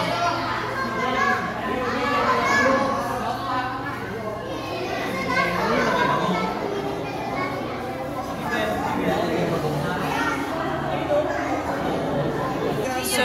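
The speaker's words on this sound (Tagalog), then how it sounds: "Maingay lang kasi marami mga bata." Many children play and shout at Manila Zoo, a dense, continuous din of young voices and chatter filling the space near the python enclosure.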